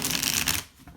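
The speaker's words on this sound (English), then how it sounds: "This deck does not bridge shuffle all that well." A thick tarot card deck being shuffled, a brief dense riffling flutter of stiff cardstock lasting about half a second, close and fairly loud, then fading.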